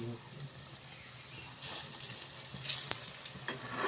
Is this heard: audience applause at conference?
no